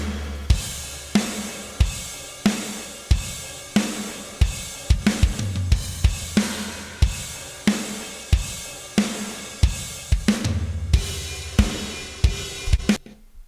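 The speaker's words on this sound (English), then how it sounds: "version of the drums that is just absolutely crushed. Has a lot of pump to it" Rock drum mix with heavily crushed, compressed parallel drums: punchy kicks and snares hitting in a steady loud pattern with pumping sustain between hits, no voices.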